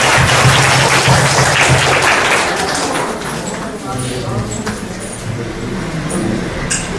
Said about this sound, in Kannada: ಚಪ್ಪಾಳೆ ಮೂಲಕ ಸ್ವಾಗತಿಸಿದ್ದಾರೆ.